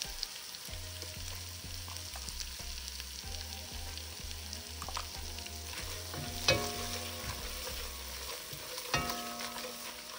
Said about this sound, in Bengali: এইবারে দিয়ে দিচ্ছি ভাজা জিরার গুঁড়া